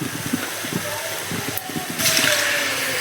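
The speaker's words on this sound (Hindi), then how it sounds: "अब इसमें डालेंगे हम लोग झोल" Broth being poured into a pan of vegetables that are already cooked, a continuous liquid pour that grows louder and fuller toward the end, with faint kitchen noise.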